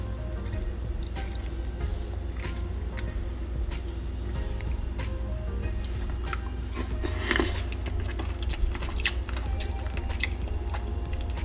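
Someone chews a mouthful of food topped with Italian dressing during a kitchen taste test, with soft crunching and wet bites close by, steady throughout and with no talking.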